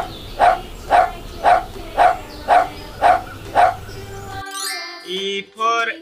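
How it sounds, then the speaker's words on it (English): A dog barks seven times at a steady, evenly spaced rhythm, loud and close. The barking stops abruptly and a voice follows, speaking or singing. "D for dog."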